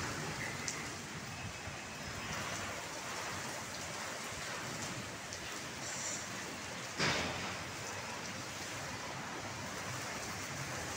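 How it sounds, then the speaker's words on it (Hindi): Heavy rain pouring down outside in April, a dense, steady hiss of drops on surfaces that fills the whole stretch, with a brief sharp crack partway through. "बाहर देखें इतनी ज़बरदस्त बारिश हो रही है। ओहो हो, बहुत ज़्यादा बारिश है।"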